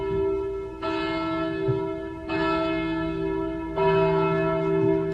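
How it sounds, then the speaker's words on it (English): Church bells ring in a radio play, three sustained tolls spaced about a second and a half apart, each struck tone lingering and overlapping the next, clear and moderately near. "I remember the church bells ringing."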